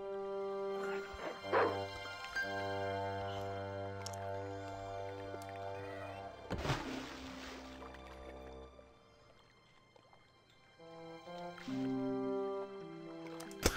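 A dog dunked in water at the docks in Broken Sword 2, with yelping and whimpering, splashing and dripping sounds amid tonal game music, a loud splash burst in the middle, then quieter music.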